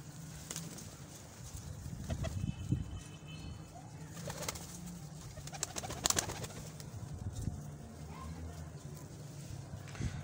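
Pigeons for sale softly coo in the background along with scattered wing flaps and taps, while someone talks quietly across the whole stretch.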